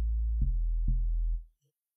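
Low sine-like synth bass from FL Studio's stock DX10 plugin in an amapiano beat, three held notes with soft plucky attacks, moderately quiet and alone before cutting off.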